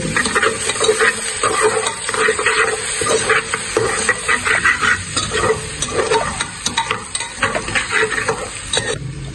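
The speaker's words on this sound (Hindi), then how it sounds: "अब मैं इसको इतना भूनूंगा कि जो अदरक लहसुन का कच्चापन है वो दूर हो जाए।" Onions with ginger-garlic paste fry and sizzle loudly in a pan for a Pakistani black urad dal tarka, with steady crackling broken by repeated stirring scrapes, close up and with no talking.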